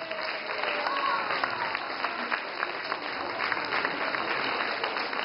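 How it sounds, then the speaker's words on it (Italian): An audience applauds for a rainbow in a magic show, steady sustained clapping that fills the whole stretch at an even level, with no pause. "E quando c'è l'arcobaleno si applaude finché non finisce!"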